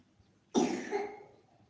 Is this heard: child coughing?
yes